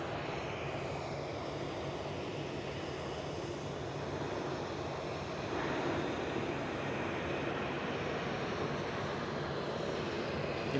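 A KLM Embraer E195-E2 jet arriving at Edinburgh Airport, its engines a steady broadband roar that holds throughout and swells slightly louder in the second half, with no talk.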